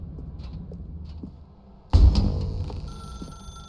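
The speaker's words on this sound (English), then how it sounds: "Now pick up the phone." A telephone starts ringing abruptly partway through in the video game The Stanley Parable: Ultra Deluxe, a loud, sustained bell tone after a quieter stretch of faint ambience.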